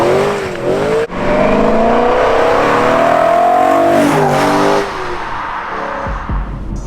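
A manual BMW M3 E92 being driven, its engine revving hard and climbing in pitch through the gears, loud and close, with a brief dip between pulls and tire noise as it eases off.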